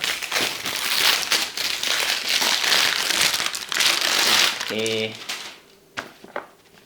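Packaging of a GoPro Hero 9 camera being unboxed, with loud, close crinkling and crackling of wrappers through most of the clip and a voice briefly heard near the end.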